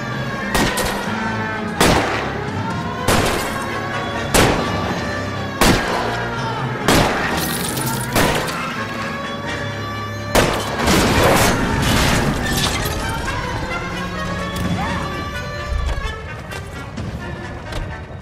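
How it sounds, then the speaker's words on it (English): Gunfire in LA Noire aimed at a car's tires during a chase, with repeated loud sharp shots spaced a second or two apart over engine roar and crashing, continuing through the whole stretch. "I'll try to shoot out his tires."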